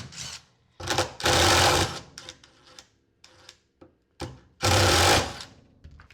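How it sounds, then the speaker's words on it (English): A power drill unscrews the screws on a Turbo Air reach-in refrigerator door, sounding as loud, close whirring bursts of about a second each, separated by quieter clicks and handling noise. "We're going to undo those screws."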